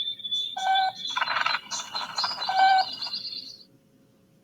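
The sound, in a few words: birds chirping outdoors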